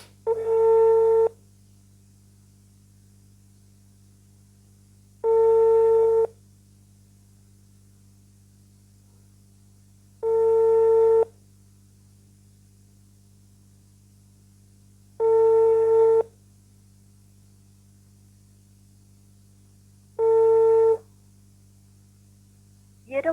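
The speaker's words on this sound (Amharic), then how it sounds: "የደውሉላቸው ደንበኛ መስመር ስለተያዘ እባክዎ ትንሽ ቆይተው ይደውሉ" A telephone busy signal sounds for a called line that is engaged: five identical long tone bursts about a second each, repeating every five seconds with silence between, over a low steady hum.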